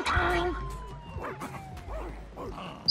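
Cartoon dogs in The Simpsons Game bark and yip in short bursts over game music and effects, with a few whimpers, fairly close.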